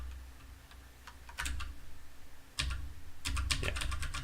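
Keys clatter on a computer terminal keyboard with shift-key use, coming in irregular bursts of quick near clicks broken by short pauses, with a denser flurry at the end.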